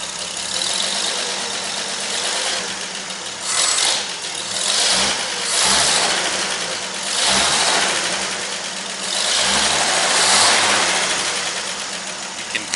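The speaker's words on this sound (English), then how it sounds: "You can kind of hear a little valve train noise clattering just a little bit" A V8 engine in a 1961 Chevrolet Bel Air or Impala idles up close with a light valve-train clatter, then revs in several throttle blips that swell and settle back to idle, with no talk.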